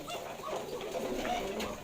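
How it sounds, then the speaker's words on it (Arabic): Ornamental Pakistani pigeons, a pair feeding their young, give soft continuous cooing that stays close and steady throughout, with no voices over it. "ده حمام زينة"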